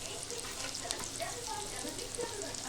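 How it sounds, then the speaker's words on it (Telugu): Carrot and green peas frying in oil in a pan, a soft, continuous sizzle with light stirring, faint and close, with no clear talk over it. "ఇప్పుడు అదే ఆయిల్లో క్యారెట్ మనం చేసే క్వాంటిటీని బట్టి వేసుకోవాలండి"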